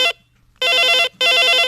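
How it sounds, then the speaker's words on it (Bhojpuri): A telephone ringing on a radio phone-in show, one brief ring and then two longer electronic ring bursts separated by short pauses, clear and close. "फोन।"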